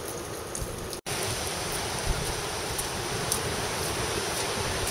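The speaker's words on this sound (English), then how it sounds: "The wind has been blowing and blowing and raining." Strong east-northeast wind with gusts and rain, a steady broadband roar of wind and falling rain, briefly cut off once near the start and then continuing evenly.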